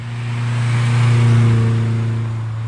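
An 800hp Mitsubishi Evo X street car revs once, a loud, close engine note that swells and holds before easing off.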